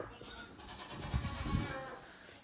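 A baby goat on a small hay-fed farm bleats loudly and repeatedly, its wavering cries rising over a steady background hiss at close range.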